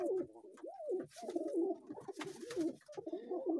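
Domestic pigeons kept alongside rabbits coo in repeated soft, rolling phrases close by, with occasional light rustling and clatter between the calls.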